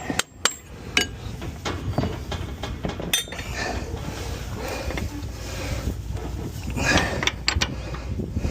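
Light metallic taps and clinks from work on hay baler machinery during a breakdown repair, scattered irregular knocks over a low mechanical background hum, close but fairly quiet.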